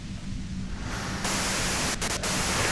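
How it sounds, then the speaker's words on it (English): Steady broadband white-noise static hiss from the video game Disco Elysium, continuous and fairly loud throughout, growing slightly brighter partway through, with no voices. "you can do it through the white noise."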